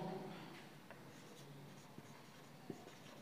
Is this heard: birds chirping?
no